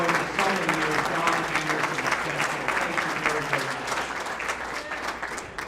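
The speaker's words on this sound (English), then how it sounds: "Let's have a round of applause." Warm round of applause from a crowd at an alumni reunion banquet, dense steady clapping filling the room and slowly tapering over several seconds.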